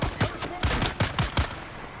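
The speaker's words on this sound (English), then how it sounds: "This is a pretty powerful sniper rifle." Sniper rifle fire in the video game Dune Awakening: about six sharp, loud gunshot cracks in quick irregular succession over two seconds, each with a short booming tail, no talk.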